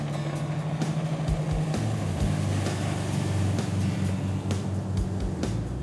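A 2012 MasterCraft ProStar 197 ski boat's Ilmor engine drones steadily over water, a continuous low rumble with splashing and wind noise throughout.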